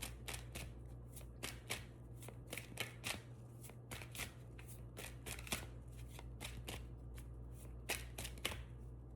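Tarot cards are shuffled by hand in quick, irregular riffles and taps, close and quiet, with a low steady hum underneath.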